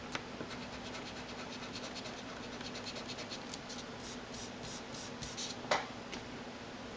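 A Pilot Frixion erasable pen writes on paper, a faint, close scratching of strokes running steadily and alone.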